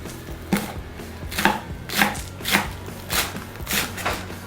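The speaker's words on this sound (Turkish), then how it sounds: "Taze soğanlarımdan başlıyorum. Bunları ilk önce şöyle bir ortadan ikiye kesiyoruz güzelce." A kitchen knife chopping spring onions on a cutting board for an oven-baked dish, with about eight distinct close chops landing at a steady, unhurried rhythm and no talking.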